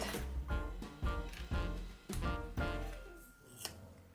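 Scissors snip the end of a ribbon on a card tag, several crisp close cuts in a quick irregular series, fairly quiet overall.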